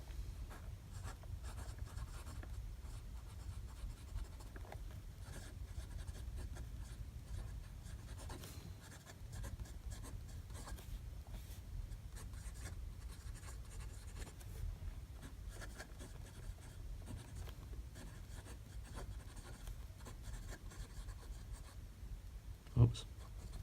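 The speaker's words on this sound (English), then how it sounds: "It's funny how writing around a tripod can sort of put you off." Quiet, continuous scratching of a gold-nibbed fountain pen moving across paper, soft and close, with faint pauses and one small tap near the end.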